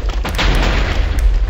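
A single booming TNT explosion in Minecraft's TNT Wizards game on Hypixel, loud and close, a dense low blast filling the whole short moment with no voice over it.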